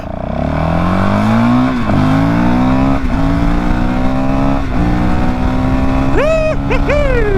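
A 2022 Honda CRF450RL supermoto engine revving loud and close, the pitch climbing through several gear changes with brief dips at each shift, then quick throttle blips at the end.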